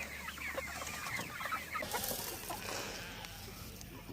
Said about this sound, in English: We got to move the chickens now.